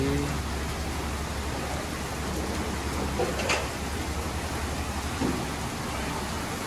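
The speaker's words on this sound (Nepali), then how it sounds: "मजाको पानी पर्यो" Steady, dense hiss of heavy rain falling at Bhairav, constant and broadband with no pauses, a faint thump partway through.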